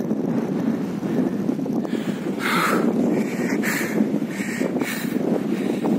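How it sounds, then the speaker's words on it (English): Strong wind rushes and buffets a microphone at the top of Kadelot Point, a loud steady roar with a few brief gusty surges. "The wind is fast and I am like at the topmost position."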